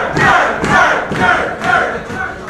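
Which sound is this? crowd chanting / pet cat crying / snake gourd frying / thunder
crowd chanting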